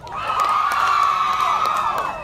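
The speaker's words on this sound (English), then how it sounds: "Give a big cheer for your school." High school students at an outdoor launch event in Nadi, Fiji, cheer and whoop for their school, a sustained, loud crowd roar of young voices that swells quickly and holds before fading slightly at the end.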